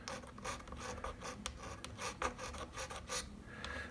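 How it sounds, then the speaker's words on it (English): Light scraping of a thin layer of glue from the fretboard of a 2019 Gibson Les Paul 60's Standard during a re-fret, heard as close, soft rasping strokes in an irregular series. "Really light scrape because there's really not a whole lot of glue there"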